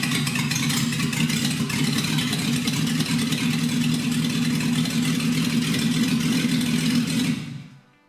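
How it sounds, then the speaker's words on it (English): A Mercedes W123 280 CE coupe engine, revived after two years sitting on a pallet, runs at a steady, close, full-bodied idle before abruptly cutting out near the end. "Not a bad start for an engine that's been sat on a pallet for 2 years."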